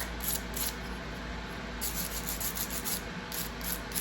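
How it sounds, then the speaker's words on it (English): Coated craft wire is roughed up on both sides with an abrasive before soldering, giving a faint, quick scratchy rubbing in short repeated strokes. "this is coated, so I have to rough it up on both sides before I put my flux on because of the coating."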